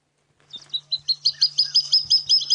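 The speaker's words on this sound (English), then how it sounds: "So that's another bird you might hear at night, the water thickney." A single water thick-knee gives a rising series of high, piping whistles that quicken and grow louder, repeated steadily against a quiet night background on safari with a faint low hum.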